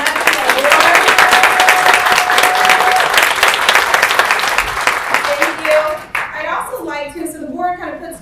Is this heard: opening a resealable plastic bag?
no